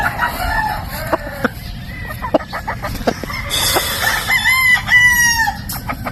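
Gamefowl roosters, a 3/4 Possum 1/4 Boston cross, crowing at a game farm in Batangas, with several loud, drawn-out crows overlapping and clucks and scattered knocks in between.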